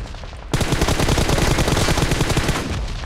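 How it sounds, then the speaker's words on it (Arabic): Rapid automatic gunfire in the mobile battle royale game PUBG Mobile, a dense, loud burst of close shots that starts abruptly after a brief quiet and rattles on for a few seconds. "طلقات وش هذا؟"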